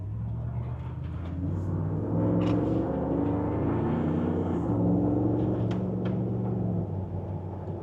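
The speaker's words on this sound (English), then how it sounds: "We'll go up through the gears here." LS3-swapped Range Rover Classic long-wheelbase Camel Trophy build, 430 hp, accelerating up through the gears: a steady, close engine rumble rising and falling as it pulls through shifts, with no talk.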